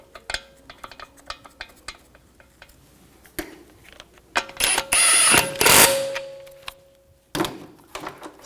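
Close ratchet clicks while lug bolts are threaded onto a Volkswagen Jetta TDI wagon wheel, with bursts of rapid ratcheting among light metallic clinks and tool handling.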